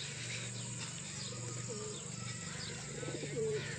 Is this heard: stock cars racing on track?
no